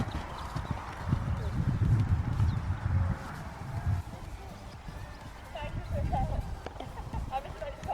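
Rhythmic clip-clop of horse hooves trotting on ground, steady and close, with a rider speaking over it and a faint whinny.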